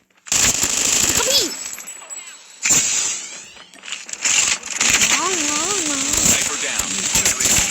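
Rapid automatic gunfire from a Call of Duty match rattles loudly in dense bursts with brief gaps, mixed with game sound effects and a voice talking over the action.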